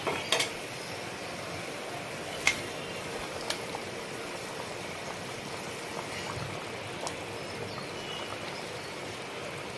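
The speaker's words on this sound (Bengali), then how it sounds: "কচুটা সেদ্ধ হবে, ঝোলটা ফুটবে, ওই জন্য জলটা পরিমাণ মতো দিয়ে দিলাম।" Water is poured into a cooking pot while making a Bengali tangra fish curry with taro, a steady close splashing stream with a few light clinks of the pot and no talking.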